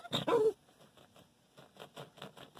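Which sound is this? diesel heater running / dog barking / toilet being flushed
dog barking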